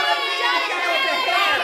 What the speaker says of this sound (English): Start cheering now.